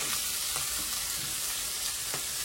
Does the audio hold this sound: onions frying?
yes